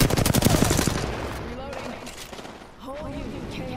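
Loud rapid-fire bursts of video game gunfire last about a second up close, then die away as players' voices talk over quieter game sounds.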